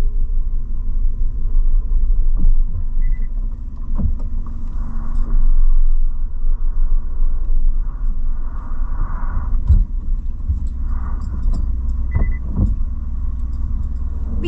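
Low engine rumble of a Maruti Celerio idling and reversing slowly, with a few faint beeps over the steady drone.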